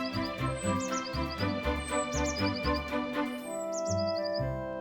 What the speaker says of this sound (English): The birds were chirping.